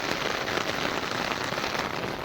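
Heavy rain drums hard and steadily on a surface, a loud, unbroken roar of close downpour with no voices.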